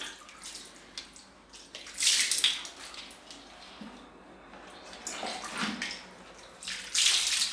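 Water rinses a scrubbed foot treatment off the skin during a varicose vein remedy, with splashing pours that come in several bursts, loudest around two and seven seconds, and quieter trickling between them.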